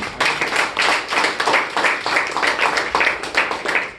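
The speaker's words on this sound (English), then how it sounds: "A big round of applause to all of them once again." A small group claps in a conference room at a club meeting, applauding table topics speakers with close, distinct rhythmic hand claps in a steady pulsing pattern rather than a dense roar.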